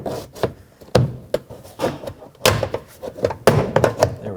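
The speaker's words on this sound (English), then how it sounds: "take that plastic trim tool and let's pry the door panel away from the door" A plastic trim tool pries the rear door panel off a 2012-2017 Toyota Camry, with a close series of creaks, scrapes and sharp clip pops coming in irregular bursts.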